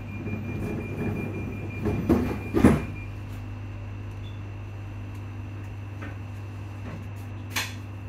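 A steady low rumble of a train bound for Edinburgh Waverley rolling on rails, with a few clunks and rattles near the start and no voices.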